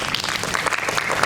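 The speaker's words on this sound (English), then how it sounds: "And a final round of applause for our students" An audience claps for students at a school house piano competition final, a dense burst of steady applause filling the whole moment without a break.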